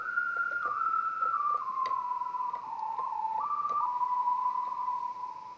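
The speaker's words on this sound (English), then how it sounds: "I added one of my favorite sounds on top of it, a whistling sound" A smooth synthesized whistle holds a steady tone and glides down in small pitch steps, with faint percussive ticks underneath.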